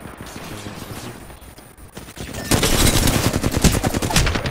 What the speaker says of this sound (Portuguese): Os 3 atirando em mim.